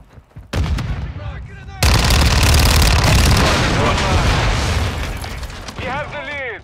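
Call of Duty gunfire rattles in rapid bursts and a grenade explosion booms loudly, with dense, continuous combat noise close up and shouted voices over the fighting.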